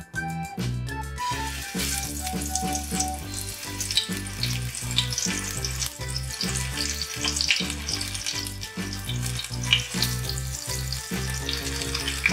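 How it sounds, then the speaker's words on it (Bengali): Pumpkin flowers dipped in batter fry in hot white oil in a kadai over a medium flame, giving a loud, steady sizzle and crackle that runs unbroken throughout with no talking. "এবার দেখুন ফুলগুলো এইভাবে ব্যাটারে ডুবিয়ে মিডিয়াম ফ্লেমে আমরা ফ্রাই করব।"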